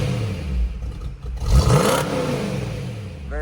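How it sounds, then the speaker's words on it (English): A 1967 Shelby GT350 V8 with a four-speed blips its throttle through the Shelby exhaust tips: a low idle rumble, then one sharp rev that rises and falls before settling back. "let you guys hear this exhaust"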